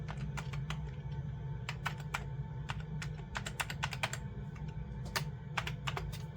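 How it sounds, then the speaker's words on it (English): Keys clatter on a computer keyboard as a password is typed during setup of an Amiga computer with PiStorm and WiFi, with irregular crisp clicks in quick bursts, close and moderately loud over a faint hum. "type in your password, click proceed."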